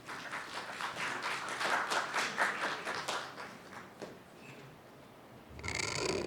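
Audience applause for a moderator at an academic forum rises into steady clapping, then thins and fades out, with a different brief noise at the end.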